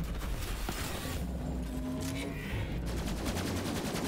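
Dense, continuous gunfire from the video game Borderlands 3 plays at a steady loud level throughout. Rapid automatic bursts blend with mechanical game effects.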